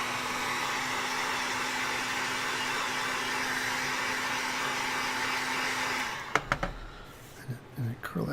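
Heat gun blowing a steady, loud hot-air rush while foam is warmed to curl it for a Colonial Marine helmet pattern, cutting off after about six seconds into quieter handling noises and soft clicks.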